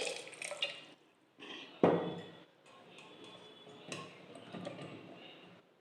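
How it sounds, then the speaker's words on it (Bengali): Water poured into a pot of slit amla gooseberries, heard as quiet splashing and dripping bursts with a sharper splash near the two-second mark, close and otherwise alone. "এতটা জল দেব যেন আমলকিগুলো সব ডুবে যায়।"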